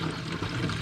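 Water from a tap runs slowly into a sprayer container for spot spraying from a Polaris Ranger, a steady, continuous splashing pour with no pauses.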